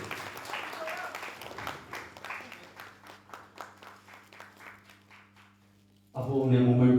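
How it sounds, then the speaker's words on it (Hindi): Audience applause at a ceremony, starting as a dense crowd clap that thins into a slowing series of distinct claps and fades out, after which a loud voice speaks. "आपकी तालियों की आवाज जरा धीमी हो रही है"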